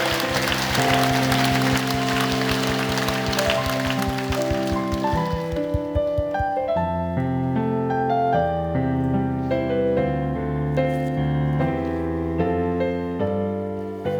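A congregation at a church prayer meeting claps loudly for several seconds over sustained keyboard music. The applause then dies away, leaving the instrumental chords ringing on alone.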